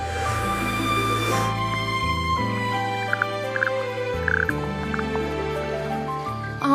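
Single loud, harsh frog croak, sustained and rumbling with buzzing tones over a layered backdrop, standing alone without any talk.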